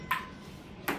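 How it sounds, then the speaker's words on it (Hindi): Two sharp, hollow clicks of a table tennis ball striking paddle and table during a casual friendly family match, spaced under a second apart with quiet in between. "और ये टेबल टेनिस हो रहा है।"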